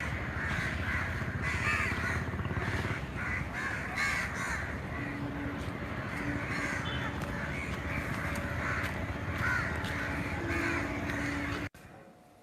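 Crows caw repeatedly from park trees in a steady, dense outdoor chorus that runs almost the whole time, with no talking.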